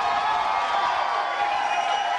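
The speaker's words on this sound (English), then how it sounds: "Round of applause for that." Steady applause from a studio audience on a television talk show, a dense even wash of clapping that stays at constant loudness throughout without pauses.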